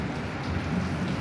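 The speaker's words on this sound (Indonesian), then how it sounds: "Kebetulan di tempat saya hujan nih bunda." Steady rain pours down outside a home, a dense even hiss of drops on surfaces with no pauses and no voices.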